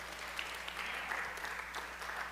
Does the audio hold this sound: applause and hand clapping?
yes